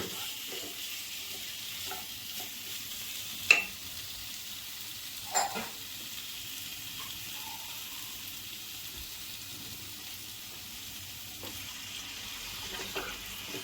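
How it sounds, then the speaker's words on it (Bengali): Potatoes stir-fried in egg curry masala with a little water in a home kitchen pan, a soft steady sizzle with occasional scraping stirs of the spatula, quiet and close, no talking. "এখন আলুগুলো দিয়ে অল্প কষাবো, অল্প জল দিয়ে কষাবো।"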